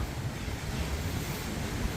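Ocean waves wash against a beach in a continuous, even roar of surf mixed with gusting wind buffeting the microphone, with no distinct breaks between waves.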